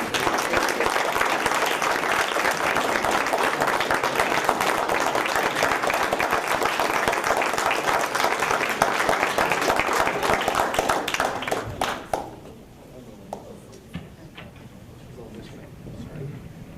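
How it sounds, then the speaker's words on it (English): An audience of parents and friends at a school board meeting applauds in a sustained, dense round of clapping that fades out after about twelve seconds, leaving quiet room noise. "we'd like to give you all a round of applause"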